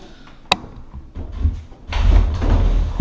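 A door in a vacated house is pushed shut with a brief sharp click near the start, followed by soft shuffling and handling noises, with no talk.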